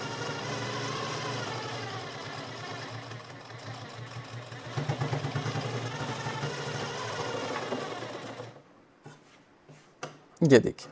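A sewing machine stitches a princess cut blouse with a steady mechanical whir for about eight seconds, then stops, leaving a few clicks and handling noises. Someone talks over it.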